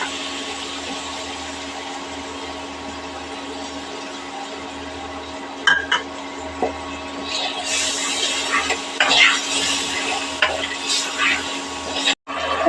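Water meets a frying paste of ground nuts and poppy seed in a pan for a yogurt-based katla fish curry, first a steady hiss, then louder bursts of sizzling with spoon clatter and stirring scrapes.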